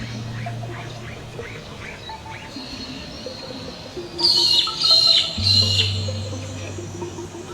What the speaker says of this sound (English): After it flies away, you'll hear it call.